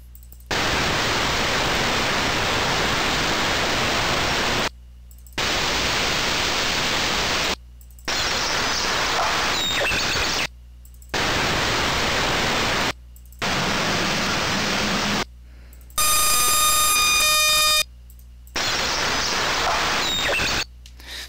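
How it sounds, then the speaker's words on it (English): Machine sound effects played back one after another in the UDK game editor: several short bursts of steady hissing, whirring noise separated by brief silences, one with a tonal electronic whine. "So you've got like these machine sounds."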